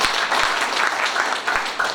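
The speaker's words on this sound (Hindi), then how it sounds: "एक बार जोरदार तालियां" An audience claps loudly during a speech in Khutauna, a dense, sustained burst of many hands from a nearby crowd, with a few low thumps mixed in.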